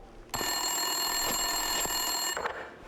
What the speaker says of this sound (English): Winterson's phone was ringing.